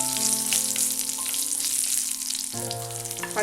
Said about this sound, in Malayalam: ഇപ്പോൾ ഉലുവ ഒന്ന് പൊട്ടുന്നുണ്ട്